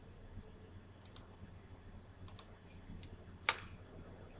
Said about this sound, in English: Just I'll type 10, enter.